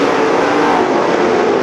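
USMTS dirt-track race cars roar as they accelerate off turn four at the start of a heat race, a brief, steady, loud engine blare with no voices.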